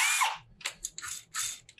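A drill bores an LED hole in a DIY pedal enclosure, sounding as a short high whine followed by several uneven bursts of grinding and chattering, close and fairly loud.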